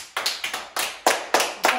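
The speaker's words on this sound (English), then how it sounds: "So, should we clap quavers?" Hands clap a quaver rhythm in sharp, close pairs, about eight crisp claps in quick even groups, loud and dry with no voices.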